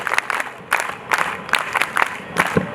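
An audience at a girls' character-building camp graduation ceremony in Agra claps a patterned cheer: sharp group claps land in regular bursts about every second, with crowd noise in between.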